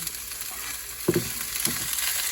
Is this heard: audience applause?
no